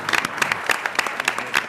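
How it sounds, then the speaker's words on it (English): Applause breaks out for a distinguished panel at a listening session on building trust and legitimacy, a short burst of dense, fairly loud clapping from a crowd. "please let's give a round of applause to this distinguished panel"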